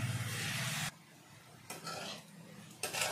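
Soaked rice and lentils frying with cabbage and carrot in a pan, with close bursts of sizzling and stirring scrapes that cut out sharply and come back twice.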